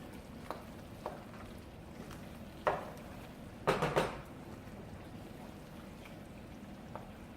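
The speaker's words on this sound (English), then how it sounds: "Stir very well." A spoon clinks and scrapes against a pot while egusi soup is stirred, a few scattered knocks and a brief cluster of clatters over quiet background hiss.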